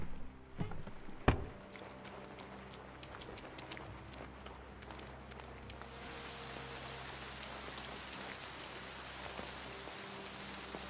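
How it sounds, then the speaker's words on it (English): Heavy rain falls outdoors as a steady, dense hiss that thickens after a few seconds, with a couple of sharp knocks near the start. "Pissing down rain again."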